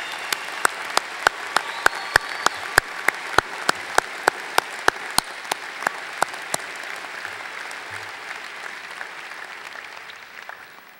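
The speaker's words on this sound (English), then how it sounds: "Please join me in a round of applause for our valedictorians" A commencement crowd in a large hall applauds for graduating valedictorians, a continuous wash of clapping with a few loud, sharp nearby claps standing out before it gradually fades.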